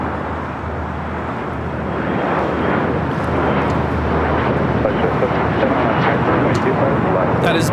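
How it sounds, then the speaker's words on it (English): An ERJ 135LR jet taking off from runway 25 at LAX, a steady broad roar of jet engine and wind noise that builds slightly and holds loud throughout, with faint radio chatter beneath. "That is Big Strike 321 taking off to Las Vegas on an ERJ 135LR."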